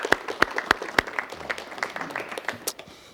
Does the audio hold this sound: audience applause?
yes